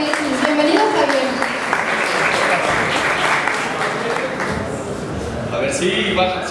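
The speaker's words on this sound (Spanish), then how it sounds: "Un aplauso para Javier, por favor, de la Liga MX." A live audience applauds for Javier Salinas of Liga MX at a FIFA 15 presentation, steady dense clapping filling the room, with cheers and voices mixed in throughout.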